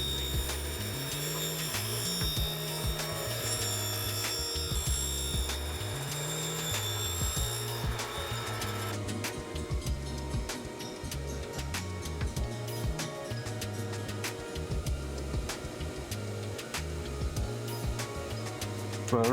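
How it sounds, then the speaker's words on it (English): A grinder works on a reel mower blade that has just been welded, giving a continuous harsh whine with shifting pitch and steady buzzing throughout, loud and close. "So right now we're basically just grinding that one blade that we welded on."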